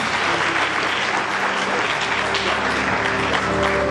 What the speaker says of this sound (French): si on peut applaudir une fois un peu plus encore